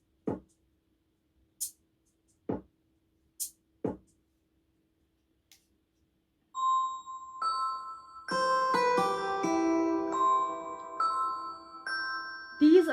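Dreamy synth tones imitating wind chimes in a relaxing night-mode track: sparse plucked percussive hits open the passage, then layered bell-like tinkling notes ring and overlap in a soft, shimmering cluster.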